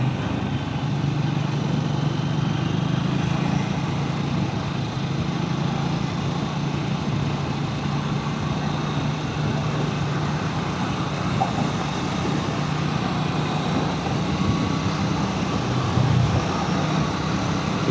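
A Triumph motorcycle rides along the newly opened Kalyani Expressway toward a flyover, its engine drone steady and loud throughout, blended with heavy wind rush and road noise, with no talk.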